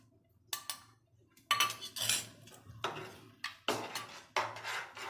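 A metal spoon scrapes and clinks against a pan while white sauce pasta with oregano and chili flakes gets mixed, in several sharp, close bursts separated by short pauses.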